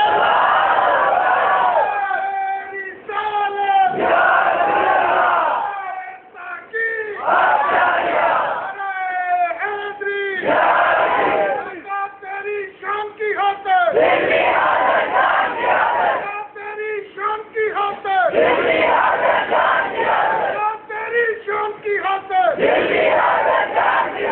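A large crowd at an Islamic religious conference in Pakistan chants slogans in loud, rhythmic bursts, call-and-response waves of massed voices rising and falling with short gaps between them.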